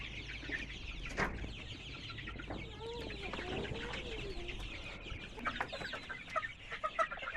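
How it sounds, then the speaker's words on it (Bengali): A two-month-old Egyptian Fayoumi farm hen clucks nearby in short, irregular bursts over a busy yard background, some rising calls standing out from the general poultry chatter. "2 মাস 10 দিন হচ্ছে মুরগিটা অলরেডি।"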